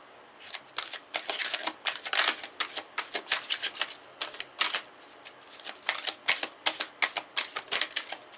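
A deck of cards is riffled and shuffled repeatedly up close, crisp fluttering bursts of papery clicks with short pauses between.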